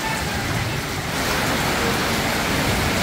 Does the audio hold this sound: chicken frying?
no